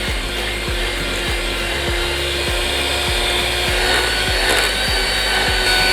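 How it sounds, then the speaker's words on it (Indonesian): An electric mixer beats powdered sugar for cookie dough, a steady droning whir with a regular rhythmic knocking pulse running throughout, close and loud with no talk over it. "Mixer sampai halus, sampai tercampur rata gula halusnya"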